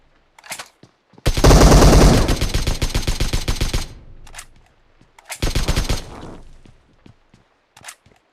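Automatic gunfire in a shooting video game comes in loud rapid bursts: one long stream of shots, then a shorter volley, with scattered single cracks before and after and no talk.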